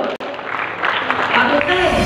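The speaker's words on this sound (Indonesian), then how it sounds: "Tepuk tangan Bapak Ibu." Applause from an audience of elderly community members at a Halal bi Halal gathering in North Jakarta, building over two seconds as clapping swells under a lingering voice and room noise, moderately loud.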